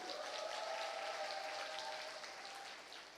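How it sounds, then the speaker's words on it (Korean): An audience at a seminar applauds the nation's Olympic athletes, a continuous wash of clapping that holds steady and then gradually fades toward the end. "뜨겁게 박수 한번 보내드릴까요?"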